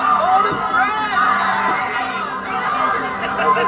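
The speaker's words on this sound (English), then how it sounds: "Sounds like a wild crowd there." Loud, wild crowd in a packed sports bar heard over a phone line, with dense chatter, shouts and cheering blending into a continuous roar.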